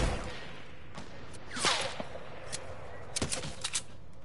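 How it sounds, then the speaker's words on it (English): Sniper rifle fire in Fortnite rings out as scattered sharp cracks, a few distant and one louder whizzing shot, spaced irregularly over quiet game ambience with brief talk. "someone's trying to snipe me"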